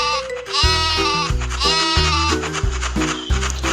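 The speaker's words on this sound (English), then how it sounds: "Goat." A goat bleats in a kids' animal-sounds song, its wavering cries rising twice over steady bouncy backing music.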